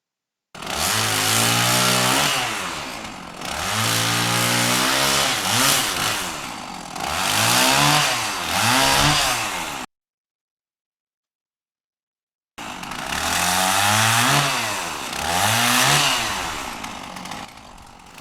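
A chainsaw roars and revs as it cuts through a wooden pallet in two long bursts, separated by a few seconds of silence.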